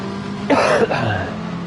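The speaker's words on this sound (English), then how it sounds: "Excuse me for any coughing or sniffling." A short, muffled cough or throat clear, two quick bursts close to the mic over a steady background hum.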